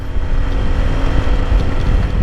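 Honda ADV150 scooter engine humming steadily while riding on the road near Antipolo, a loud continuous drone with wind rumble and no talk.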